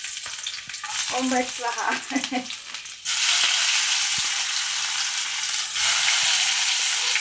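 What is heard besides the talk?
garlic, tomato and chili frying in hot oil for tempering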